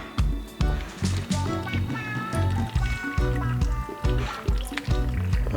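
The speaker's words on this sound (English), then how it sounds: "we're going to add some water." Water is poured into a blender holding spinach, producing close gurgling, splashing and trickling sounds in irregular bursts with clinks throughout.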